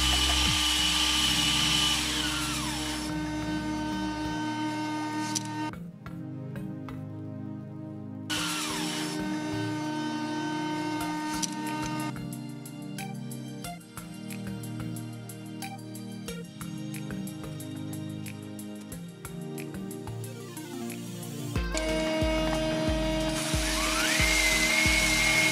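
A drill spins a hone inside the cylinders of an engine block, lubricated with water, giving a steady whirring grind with tonal harmonics that cuts out briefly, stops and starts again, shifting pitch at each restart.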